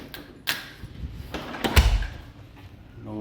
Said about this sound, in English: Then when you close the door,